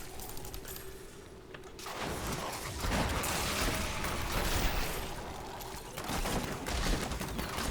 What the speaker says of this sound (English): Just caught me on the edge of that explosion there